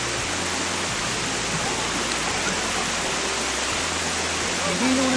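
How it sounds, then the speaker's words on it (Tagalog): A waterfall at a Japanese campground roars as a dense, constant broadband rush that masks everything else, steady and enveloping from nearby. "nandito na kami sa falls"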